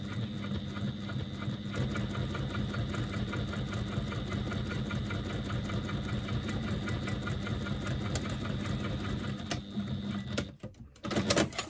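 Sewing machine running steadily while topstitching a faux leather bag strap, a fast even mechanical whir and needle chatter held for about ten seconds, then stopping with a few clunks.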